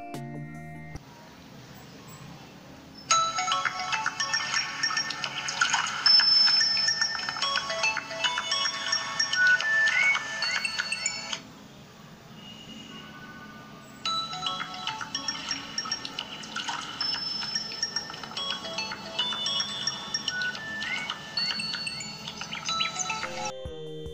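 A ringtone melody plays in two bursts through the rear-facing loudspeakers of Qmobile S6s and S6 Plus smartphones, one phone after the other, bright and tonal with the second burst slightly quieter, with no talking over it.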